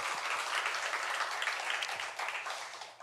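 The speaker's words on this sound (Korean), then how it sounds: "우리 하나님께 영광의 박수 올려드리겠습니다" A church congregation at a Sunday worship service bursts into sustained applause, a bright, dense patter of many hands that fades slightly toward the end, with no speech on top.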